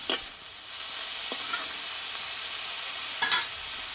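Bathua greens frying in a pan give a soft, steady sizzle close by, with a few short scraping strokes of stirring cutting through it at the start and near the end.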